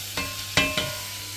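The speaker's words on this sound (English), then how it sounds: "I've got the mincemeat in the pan. I'm just browning it off" Mincemeat browning in a frying pan, a soft hiss with three quick scraping stirs in a short burst, fairly close.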